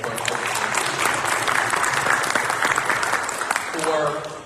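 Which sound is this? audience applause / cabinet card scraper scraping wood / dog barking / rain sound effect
audience applause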